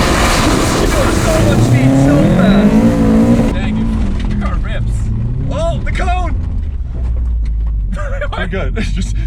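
A low-budget Subaru WRX AWD rally car tears along at speed, its engine a loud, close roar rising and falling with gear changes while excited voices talk over it.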